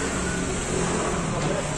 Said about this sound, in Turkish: Şimdi çıkartıyoruz arabamızı dükkandan.